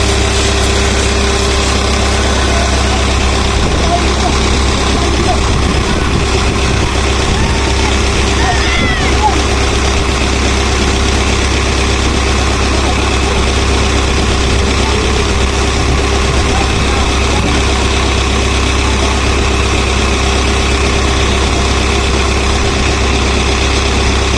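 The engine of the fishing boat F/bca Myka, just replaced, idles in a steady loud low drone with constant mechanical vibration for the whole stretch, close by, while voices talk faintly in the background.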